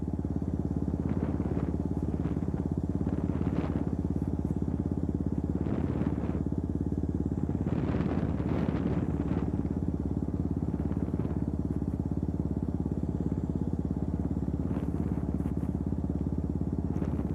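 A KTM Duke 200 engine drones low and steady while riding, with small rises in revs, and constant wind rumble underneath.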